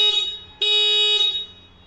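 Stock horn of a Kinetic Honda 90 scooter blaring in two close, loud honks: a short opening blast, then a longer sustained one that tapers off, with a bright buzzing electric tone and no talk.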